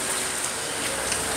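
Light morning drizzle patters in a continuous soft, even hiss with faint scattered drops, heard alone without voices.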